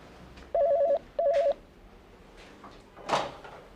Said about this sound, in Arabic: استاذ جبر، البيت على التليفون